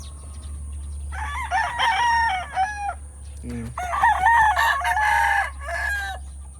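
Gamecock roosters, a three-way cross from a Boston Claret hen line, crowing at a rooster farm: two long, loud crows close by, separated by a short pause and a brief cluck, over a steady low hum.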